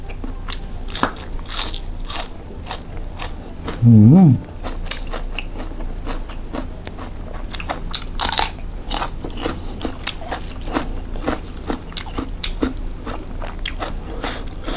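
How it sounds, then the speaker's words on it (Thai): Someone eats Thai papaya salad with thin rice noodles, dressed with fermented fish and crab sauce and fish sauce. Close, wet crunchy bites and chewing repeat steadily, and a brief voiced hum rises partway through. "มากินตำเส้นเล็กกันครับทุกคน อร่อยมาก"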